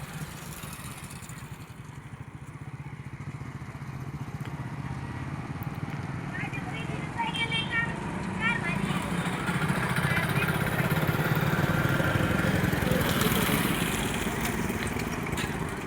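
Several motorcycles with their silencer pipes removed run on a road with speed breakers in Mandavgan Pharata, a steady rough engine drone that builds slowly, while someone talks over it throughout.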